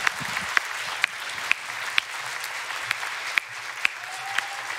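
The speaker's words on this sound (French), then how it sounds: "on l'applaudit bien fort" An audience at the Speedons 2023 speedrun marathon applauds steadily after a Bloodborne all-bosses run. The clapping is a dense, sustained wash with sharp accents at regular intervals, and no voices stand out.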